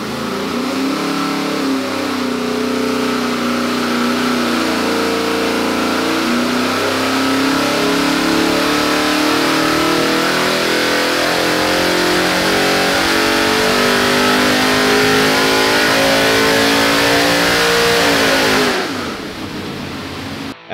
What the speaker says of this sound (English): Our test piece is a street strip 427 small block Ford producing 600 plus horsepower